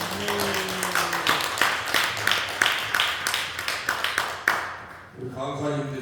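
A church congregation at a thanksgiving worship service breaks into applause, with rapid dense clapping and sharp taps building over several seconds, then fading as a voice and music come in at the end.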